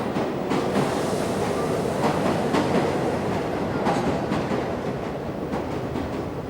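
A New York subway train runs with a loud, steady rumble, and rhythmic clickety-clack wheel clicks recur throughout.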